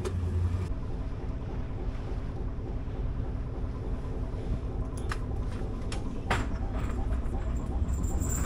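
Boat engine drones steadily during a crossing in Denmark near Zealand, a constant low rumble mixed with wind buffeting the microphone, with a few brief clanks near the end and no talking.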